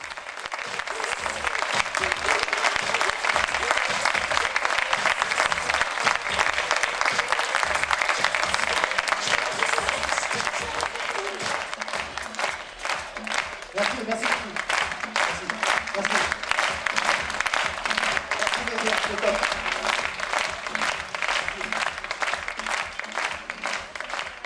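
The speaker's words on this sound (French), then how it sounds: "Une prestation fort applaudie par le public venu nombreux partager cette tranche de vie" A large audience at a stage performance gives long, sustained applause, dense steady clapping that holds for over twenty seconds and thins slightly toward the end.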